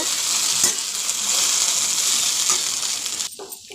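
Okra and potato fry sizzles steadily in a pan while being stirred, with a couple of scraping spatula clicks before the sizzle suddenly drops away near the end.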